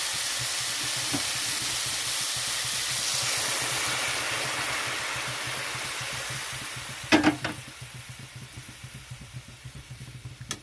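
Hot water poured into a pan of fried spice paste for a Bengali bhetki fish curry with potato and eggplant, a steady sizzling hiss throughout with a sharp burst of crackling splutter partway through, no talk.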